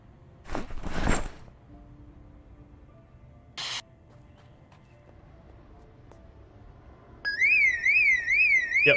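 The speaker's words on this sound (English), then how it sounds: "Trigger the alarm for funsies?" A car alarm in the zombie survival game Project Zomboid suddenly blares after a few thumps and quiet background, a loud, steady warbling siren that keeps cycling up and down.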